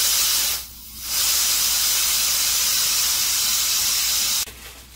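A pressure cooker making roasted eggs vents its steam after the heat is turned off: a loud, steady hiss that dips briefly near the start, then holds until it abruptly drops away.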